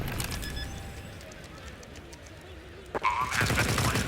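Rapid gunfire in Counter-Strike during a professional match, a quick burst of shots near the start, then a loud sustained spray of shots toward the end over a noisy game background.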